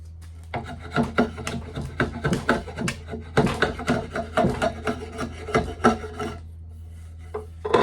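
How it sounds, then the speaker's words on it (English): A draw knife shaves a wooden board into a walking stick at a workbench, making repeated rasping strokes in steady bursts, close and fairly loud, with a short pause near the end. "I wanted some hand tools used. Draw knife being that hand tool"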